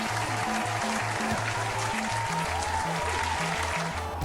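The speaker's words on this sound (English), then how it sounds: "The crowd is so amped up, they're not even shutting up. They sound all 8-bit and everything." Chiptune 8-bit crowd cheering from a boxing video game, a constant buzzy roar of synthesized applause under a bouncing square-wave bleep pattern, steady and loud throughout with no talk.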